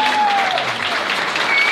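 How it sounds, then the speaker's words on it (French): A crowd applauds a concert band loudly and steadily, dense clapping filling the space for the whole moment. "On les applaudit bien fort, Nathalie Royal-Vermichel"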